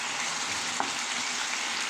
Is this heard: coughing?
no